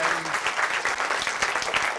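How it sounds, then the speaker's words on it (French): Children at a live event applaud loudly, a dense continuous clatter of many small hands with faint voices mixed in. "je vous demande d'applaudir très très fort"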